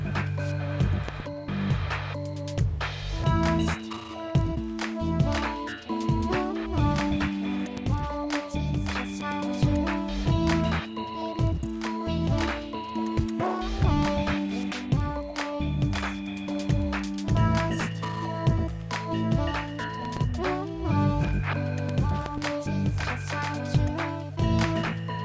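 A full electronic track outro plays with all parts together: punchy repeating drums, a driving bassline and layered synths, dense and loud throughout without any voices.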